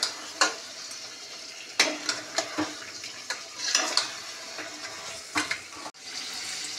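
Food being stirred and sautéed in a pan in a home kitchen, with scattered scraping clinks of a spoon over a soft sizzle, close and fairly quiet, no talk.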